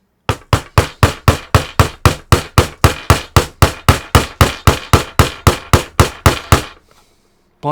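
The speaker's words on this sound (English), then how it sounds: "it survived the hammer test" A hammer strikes an SSD drive over and over in a fast, even rhythm, about two dozen sharp close blows, then stops.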